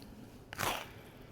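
A single close, crisp crunch as someone bites into the crunchy edge of a homemade chocolate chip oatmeal cookie, brief and quiet against a soft room background.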